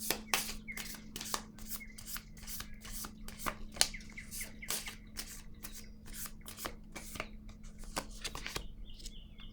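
Tarot cards shuffled and handled close up, a steady run of crisp riffling snaps and flicks with a faint constant hum underneath and no talking.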